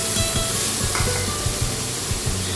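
Dry spices and water hit hot oil in a pan while a cauliflower paratha filling is being cooked. The result is a loud, steady hiss and sputter, close up and unbroken, with no talking.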